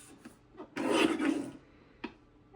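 A paper trimmer slices through a 4-inch piece of cardstock, heard as a short rasping swipe of the blade with small clicks before and after, close and alone.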